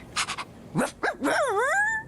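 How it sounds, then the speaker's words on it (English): A dog gives three quick yips, then a couple of rising barks and a drawn-out whining, almost talking howl, close and clear. "my dog barked."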